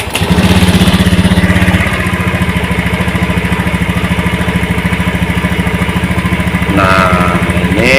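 A motorcycle engine with a faulty TPS sensor and a stuttering problem runs loud and close at a steady, rapidly pulsing idle, with a brief rise in revs near the end.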